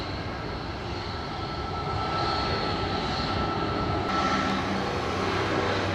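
A fixed-wing airplane roars at Sangster International Airport in Montego Bay, Jamaica, a steady loud engine drone that swells slightly and holds without pause.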